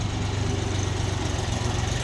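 Three-cylinder, four-wheel-drive Bulat 244 mini tractor engine running steadily at idle, a low, even rumble with a regular pulsing throb, close and continuous with no talk.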